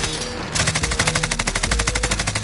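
Loud, sustained automatic gunfire from the Warzone video game, a rapid steady stream of shots that starts abruptly after a short lead-in of game noise and keeps going without a pause.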